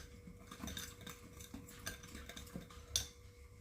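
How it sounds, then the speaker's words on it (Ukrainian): A spoon stirs a spiced marinade sauce for baked hake, giving a faint, quiet clinking and swishing with a few light taps against the bowl. "Гарненько змішуємо соус чи маринад, чи соус"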